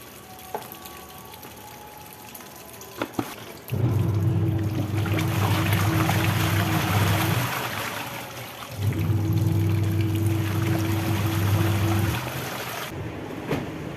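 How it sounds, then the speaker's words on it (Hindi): Water gushing into a washing machine drum, a loud steady rushing roar in two long bursts separated by a short pause, with a few faint clicks before the flow begins. "और पानी भर गया होगा। अब सर्फ डाल के मशीन भी ऑन कर दूंगी।"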